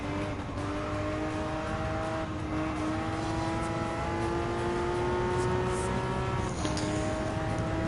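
A 2016 Porsche Cayman GT4 racing in Gran Turismo 7, its engine holding a loud, sustained high whine that climbs steadily through the gears, with a brief dip and shift near the end.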